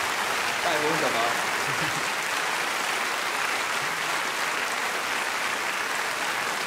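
A studio audience on a folk music TV show applauds steadily, a dense wash of clapping, with a presenter's voice briefly over it near the start.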